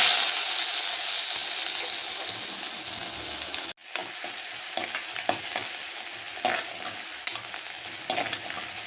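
Mustard seeds, half-crushed spices and garlic fry in hot oil for a tuna curry, giving a steady close sizzle and crackle that cuts off briefly, then returns with light stirring.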